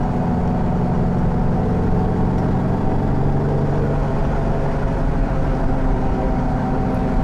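Subaru-engined Beck Coupe with a 5-speed running in fourth gear, a steady loud engine drone and rumble from inside the car, constant throughout with no talking.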